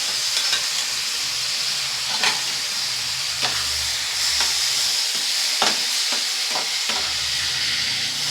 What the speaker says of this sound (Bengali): টমেটোটা দিয়ে সব মশলাটাকে ভালো করে কষিয়ে নেব।